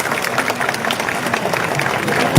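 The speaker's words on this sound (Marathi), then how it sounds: "तर स्वतःसाठी खरंच एकदा खणखणीत टाळ्या वाजवा." Crowd at a Marathi political rally clapping in a steady, dense wash of applause at moderate distance, sustained throughout with no speech over it.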